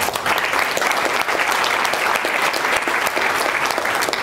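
An audience applauds continuously and loudly, a thick, even roar of clapping hands that is close and sustained throughout.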